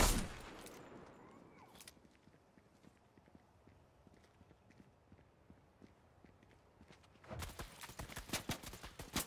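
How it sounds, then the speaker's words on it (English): Gunfire in a Fortnite Zero Build battle royale match, with sharp shots clustered near the start and a dense burst of rapid firing near the end, separated by quieter footstep-like ticking in the middle. "Somebody shooting me!"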